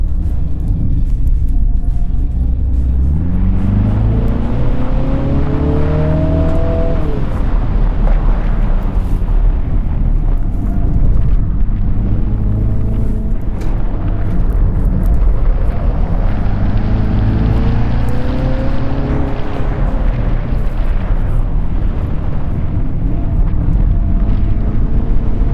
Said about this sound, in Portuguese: última volta agora, que não tem ninguém aqui, vamos acelerar